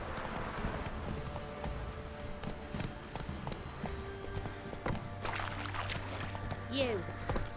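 Geralt's horse Roach clip-clopping steadily at a trot in The Witcher 3, hooves clear and close over ambient game sound and music, with a short neigh near the end.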